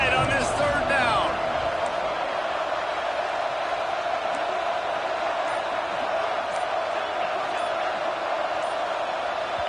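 A loud, continuous roar of a packed football stadium crowd building pressure on third down, a sustained wall of noise with a commentator talking over it.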